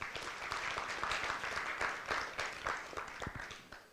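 Audience applause at an agricultural industry symposium in Uganda, a steady dense patter of many hands clapping throughout, fairly close and sustained with slight swells, no voices over it.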